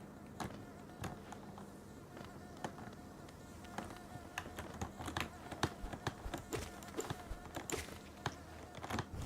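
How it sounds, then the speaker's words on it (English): Insects drone and buzz persistently at moderate distance, overlaid with frequent sharp ticks and taps scattered irregularly throughout. "Goddamn all these bees"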